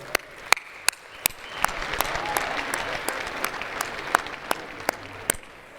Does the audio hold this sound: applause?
yes